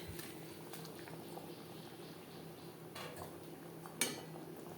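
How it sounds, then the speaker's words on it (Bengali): Omelette curry gravy boiling in a pot, a faint continuous bubbling with a few soft clinks of a utensil and one sharper tap near the end. "দু তিন মিনিট গ্রেভি বেশ ভালো করে ফুটিয়ে নেব"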